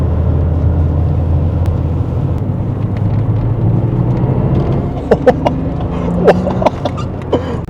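A classic turbocharged car on a racing circuit, its engine giving a low, steady rumble heard from inside the cabin, with a few sharp clicks and taps toward the end.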